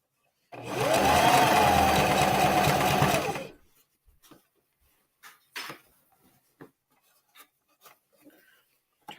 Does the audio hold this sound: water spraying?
no